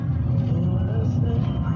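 Bus moving through traffic with a steady low engine rumble and road noise, heard from inside the vehicle, while someone talks over it.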